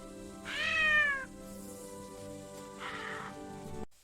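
A cat gives two meows, the first a long, loud, falling cry and the second a shorter, softer one a couple of seconds later, both close by in a quiet setting.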